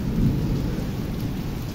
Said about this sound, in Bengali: বৃষ্টির এই দেখে মনে হচ্ছে যে বৃষ্টি পর্যাপ্ত পরিমাণ হচ্ছে